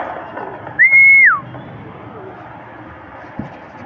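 A single clear whistle note holds steady for about half a second, then slides down, over low background noise at a pigeon race.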